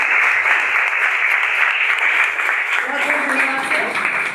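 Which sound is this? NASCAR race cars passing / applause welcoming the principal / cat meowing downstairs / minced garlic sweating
applause welcoming the principal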